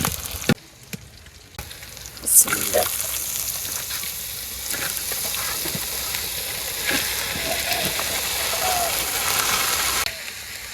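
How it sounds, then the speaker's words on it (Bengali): Leafy greens seasoned with salt and turmeric hiss and sizzle steadily in a hot pan on a village kitchen fire, with occasional clinks and scrapes as they are stirred, close and fairly loud. "এবার বাজিটা একটু লাড়াচাড়া দিয়ে দিই"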